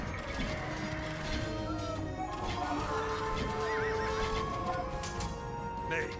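Horses of mounted archers in an Alexander the Great strategy game whinny and neigh over continuous hoof clatter and mechanical battle noise, a busy, dense mix with no break.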